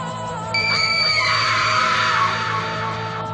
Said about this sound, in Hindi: उसका भयानक रूप देखकर विवेक डर गया और चिल्ला उठा